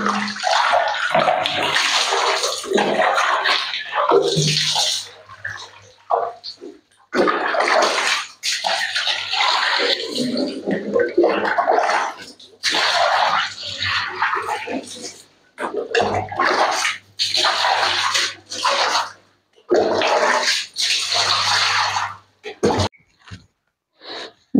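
Water is sprayed and splashed in bursts during whole-house cleaning, loud gushing spells lasting several seconds each, broken by short pauses.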